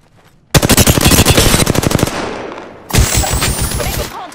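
Loud, rapid automatic gunfire from Apex Legends: a long burst of sharp, closely spaced shots, a brief lull, then a second burst. Close and dominant, with no talking.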